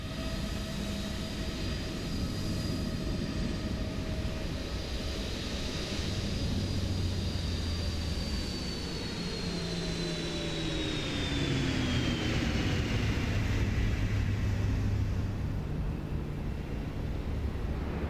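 A PMDG 777-300ER landing replay in MSFS 2024 carries a loud, steady jet engine roar with tones that slowly fall and shift as the airliner rolls out, with no voices.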